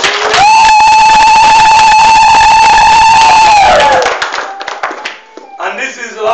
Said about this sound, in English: Can you please clap hands